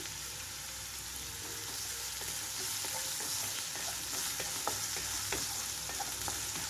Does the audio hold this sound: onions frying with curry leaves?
yes